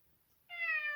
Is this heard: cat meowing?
yes